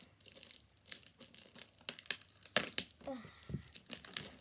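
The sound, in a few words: tearing open a Pokémon card pack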